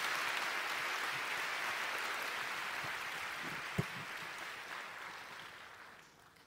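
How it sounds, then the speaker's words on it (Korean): A church congregation applauds for a musician during a worship gathering, a broad even patter of many hands at a distance that holds steady, then tapers off toward the end with one brief knock midway. "잠시 박수 해주시겠어요?"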